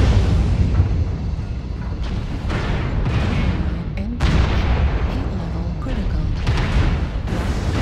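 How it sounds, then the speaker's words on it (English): SRM missile volleys fire in a mech video game as a loud, rumbling barrage of repeated booms and blasts over a heavy low roar, with faint voices mixed in. "Those SRMs are deafening on a surround sound"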